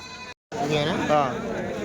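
A goat bleats in a few wavering cries amid a busy outdoor crowd at a goat market in Kadiri, with people talking close by throughout.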